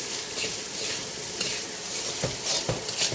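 Fried rice sizzles continuously in a pan as it dries out, with rhythmic scraping strokes of a stirring spatula throughout.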